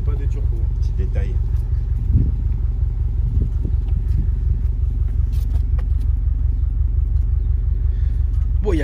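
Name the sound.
Subaru engine rumbling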